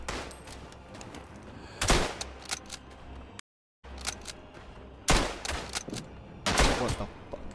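Bursts of rapid gunfire from the World War I shooter Tannenberg, several loud volleys and single shots spread across the stretch, with a brief silent gap in the middle and no talking.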